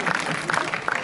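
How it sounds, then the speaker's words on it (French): Brief burst of audience applause during a French comedy stage show, short and fairly close. "On s'applaudit, bravo."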